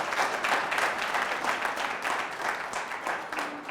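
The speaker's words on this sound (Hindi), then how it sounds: "ताली बजा सकते हो?" A church congregation applauding during a sermon, a dense, steady wash of many hands clapping together in a room, moderately loud and continuing throughout with no speech over it.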